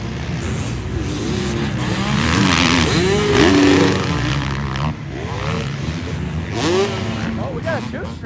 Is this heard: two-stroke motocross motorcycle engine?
yes